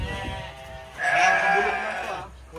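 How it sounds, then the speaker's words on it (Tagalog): Sheep on a goat farm bleat loudly and close by, one drawn-out, wavering cry rising over a low murmur of farm background noise. "Hindi lang kambing guys, may mga tupa rin"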